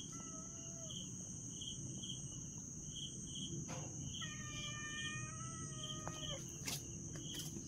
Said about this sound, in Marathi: रातकिड्यांचा अजूनही आवाज येतोय